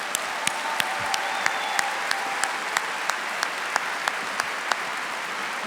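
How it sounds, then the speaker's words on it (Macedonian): A large audience at a Macedonian music awards ceremony gives a steady, full round of applause, with sharp recurring clicks cutting through the clapping. "Дами и господа, еден голем аплауз"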